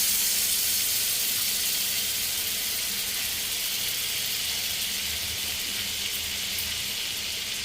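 Butter sizzling in a hot kadai (wok) while cooking a Bengali-style paneer butter masala, a steady, close hiss running through the whole stretch with no talk over it.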